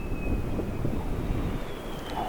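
Wind farm turbines at Cadgers' Yett produce a steady low background roar heard from a distance, broad and continuous with faint higher tonal whines drifting over it.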